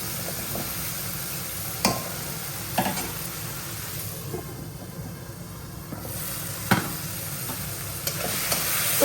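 Tomato sautéed and stirred in a pan, a steady low sizzle with a few sharp scrapes of the spoon at intervals, close and moderately quiet with no talking.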